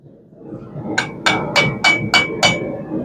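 A herb chopper being forged over the horn of an anvil takes six evenly spaced ringing hammer blows, close and loud, with a steady metallic ring sustained between strikes and no talking.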